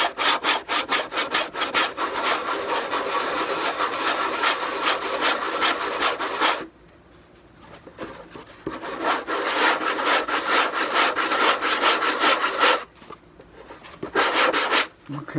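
Coarse sandpaper rubs back and forth over a wooden wing root, steady rhythmic rasping strokes, loud and close, with two short pauses partway through.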